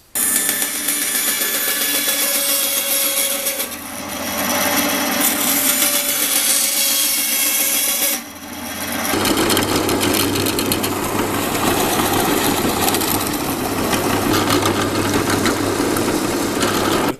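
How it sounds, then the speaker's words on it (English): Power saw cutting wooden bearing blocks to hold the axle of a homemade apple grinder, a steady loud buzzing cut running throughout with a brief dip around the midpoint and a lower, rougher tone in the second half. "I can now cut the bearing blocks which are going to hold the axle so it can spin."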